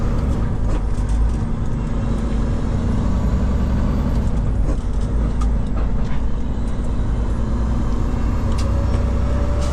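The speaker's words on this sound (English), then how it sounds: "This is what I don't like about having an 18 speed driving through the city. It's shifting, constantly shifting." An 18-speed truck drives through city streets, its engine droning steadily and close from inside the cab with continuous rumble and road noise as it works through gear changes.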